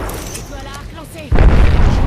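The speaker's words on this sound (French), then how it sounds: "étoile à arc lancé" An arc star goes off in Apex Legends: a sudden loud boom cuts in partway through and keeps rumbling close and heavy, after a stretch of quieter game noise and a voice talking.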